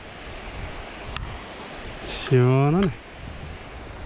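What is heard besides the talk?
flowing stream water on a mountain trail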